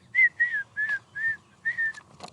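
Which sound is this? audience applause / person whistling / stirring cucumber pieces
person whistling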